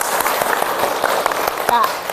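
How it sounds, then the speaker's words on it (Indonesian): An audience bursts into hand clapping at a morning motivational session, a dense patter of claps running steadily through the whole stretch with voices mixed in. "Tepuk tangan dulu semua"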